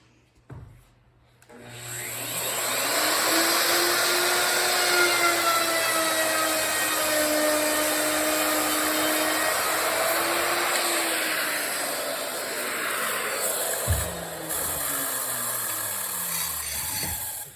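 A handheld router cutting partway through scribed paneling for a truck camper build: the motor spins up to a loud, sustained high whine, cutting noise steady under it, then winds down near the end with a clunk.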